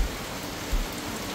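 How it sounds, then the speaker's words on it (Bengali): Heavy rain pours steadily, a dense even hiss of falling water with a faint thump partway through. "আর এর মধ্যে নামলো জোরে বৃষ্টি।"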